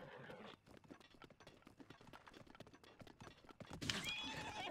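A horse in The Legend of Zelda: Breath of the Wild gives a loud whinny near the end after a run of light, rapid hoof clops, with game sounds and little else around.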